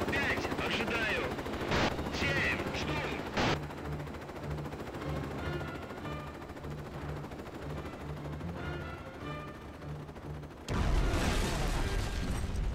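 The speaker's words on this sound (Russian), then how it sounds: "Че, взрывы какие-то начались" Gunfire and explosions crackle in Operation Flashpoint: Cold War Crisis: rapid machine-gun bursts early on, then lighter distant shots under a low engine drone, ending in a loud blast.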